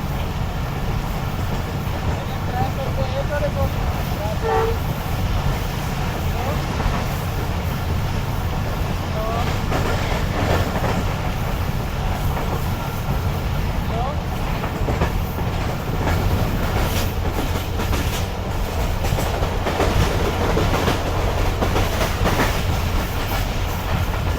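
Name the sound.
Shalimar Express train passing Adam Sahaba railway station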